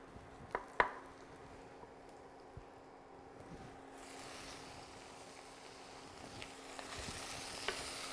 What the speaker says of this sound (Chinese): 咁就爆一爆啲薑絲啊！